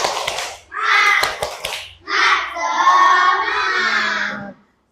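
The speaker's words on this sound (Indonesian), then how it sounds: "Tepuk semangat dulu. Tepuk semangat." Schoolchildren in an Indonesian classroom perform a spirited clapping chant led by their teacher, loud young voices shouting in bursts with sharp claps between phrases, close and energetic.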